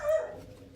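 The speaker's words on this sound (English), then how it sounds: "stop barking" A dog gives a single short bark nearby, fading quickly into quiet background noise.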